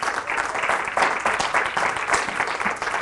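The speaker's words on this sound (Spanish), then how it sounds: "¿Se animan a darle un aplauso al Señor en esta noche?" A church congregation applauds together during an evening service, a steady wash of clapping that holds across the whole stretch, fairly loud and close with small swells.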